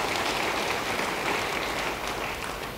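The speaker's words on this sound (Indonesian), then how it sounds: "Yang mau beri tepuk tangan bagi dia" Church congregation applauding during a sermon, a dense, steady wash of many hands clapping at a constant level with no talk over it.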